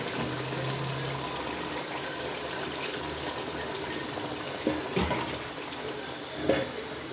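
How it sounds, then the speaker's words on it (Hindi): Water poured into a pot of meat and bottle gourd curry with chicken, a soft continuous splashing trickle heard up close at low volume with a few faint clinks. "अब इसमें थोड़ा सा पानी ऐड करते हैं ताकि हमारा कीया और चिकन गल जाए अच्छी तरह"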